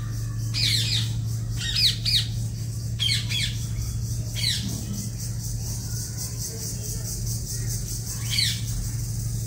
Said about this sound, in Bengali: এটা হচ্ছে নীলময়ূর।